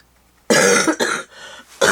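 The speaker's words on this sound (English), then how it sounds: "I'm still suffering from that cough" A person coughs twice, harsh and close, with a short rough throat-clearing sound between the bursts.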